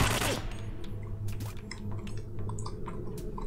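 Rapid bursts of gunfire from a first-person shooter game called Wasted: a dense run of sharp, closely spaced shots that stays loud and steady, with no talking.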